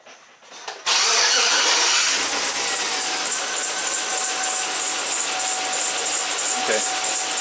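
A V8 engine starts abruptly and runs loudly and steadily with one fuel injector unplugged, lean misfiring at close range, with a faint whine over the roar.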